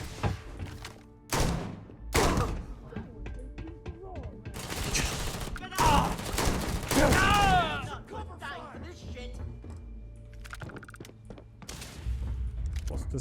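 Gunfire from new weapons in the video game Starfield crackles in bursts and single shots, mixed with thuds and game voices, while people talk over it.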